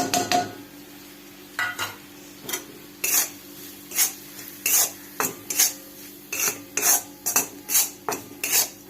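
Peanut powder is stirred into masala in a pan: a steady series of close, rasping spatula scrapes against the metal in an even rhythm, over a faint sizzle.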